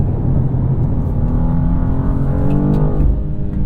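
A 2023 BMW M2 with a 6-speed manual revs and pulls hard after a downshift, with a deep, rising roar and steady rumble, loud and close, with no talking.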